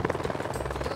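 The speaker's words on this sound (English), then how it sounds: "thank you for taking Mo on a helicopter ride" Steady helicopter rotor noise with a rhythmic thumping chop, loud and close, continuing throughout without talk.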